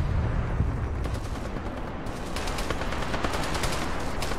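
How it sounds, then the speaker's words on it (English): Gunfire in the Arma 3 video game: dense, continuous crackling shots and rolling booms, with a harsh wash of noise and rapid repeated cracks, like a distant firefight echoing. "Sounds like there's a sniper engaging another squad up ahead."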